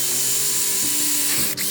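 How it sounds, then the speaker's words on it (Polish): A power drill bores a hole through a dried slice of wood, giving a steady loud whirring grind throughout with a brief dip and hitch near the end. "musimy wywiercić odpowiedni otwór"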